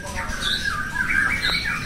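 Birds bred in captivity at a breeding facility squawk repeatedly, harsh raspy calls rising and falling close by over a steady background.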